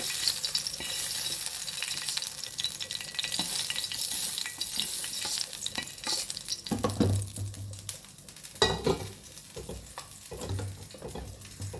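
Onions sizzling in hot oil in a pan while being stirred, cooked as part of a mutton paya recipe; a steady close frying hiss broken by scraping stirs and a few louder clanks, with no talking.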